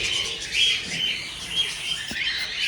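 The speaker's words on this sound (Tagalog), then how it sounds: "Meron na namang inakay dito." Small nestling birds chirp steadily in a nest, a dense, high, continuous twittering that carries on without pause through the whole stretch, fairly close and unaccompanied by talk.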